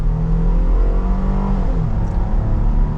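V6 engine of a 2023 Jeep Grand Cherokee L Altitude 4X4 accelerating at half throttle, heard from inside as a loud, steady rising hum and rumble with no talk.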